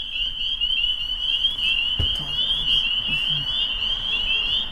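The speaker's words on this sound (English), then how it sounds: "we hear peepers calling" Spring peepers call in a Maine wetland at night, a dense, continuous chorus of high, shrill peeps heard from a car window, with faint low rumbles and a brief thump beneath.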